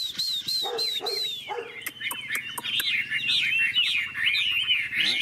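Chinese hwamei songbirds in a song-fighting contest pour out loud, warbling, whistled phrases and sharp chirps close by, with a dog barking in the background early on.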